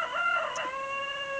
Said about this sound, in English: And there goes the rooster,